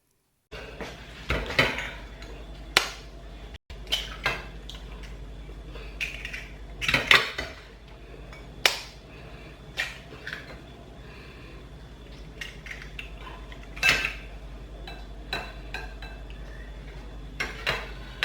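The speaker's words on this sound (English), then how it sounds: "I just broke 2 big eggs into the bowl" Two large eggs cracked into a bowl while cooking coconut fried rice, heard as scattered sharp taps and clinks of shell and utensils against dishware, close and intermittent amid quiet breathing, with no speech.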